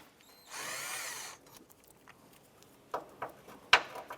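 A power socket tool removes a 10mm bracket bolt on a 2006-2013 Chevrolet Impala during a radiator cooling fan replacement: one short, steady whir, then a few faint metallic clicks and taps close by.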